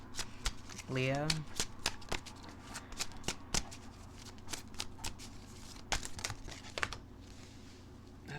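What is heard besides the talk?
shuffling tarot cards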